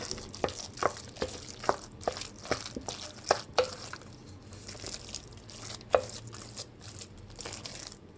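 Rice mixed with an onion filling for arancini rice balls, stirred with a spoon against a pot: repeated soft scraping and tapping clicks in an uneven rhythm, close and fairly quiet, fading toward the end.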